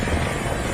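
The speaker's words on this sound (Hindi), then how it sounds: "कौन आ गया? हेलीकॉप्टर।" A helicopter arrives in a scene from the Malayalam action film Turbo, a dense, steady rotor-and-engine roar filling a brief, loud moment with no voices over it.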